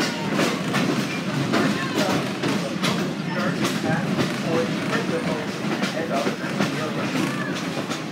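An open-air heritage railroad ride on the Wilmington Western Railroad, with steady loud rumbling and rhythmic clickety-clack of wheels on the rail joints close by, continuous throughout.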